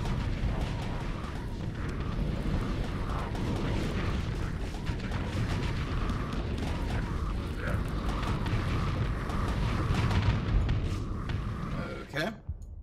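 Ship weapons firing and explosions in the space combat game StarSector, a dense continuous barrage of booms and bursts with a voice speaking over the din.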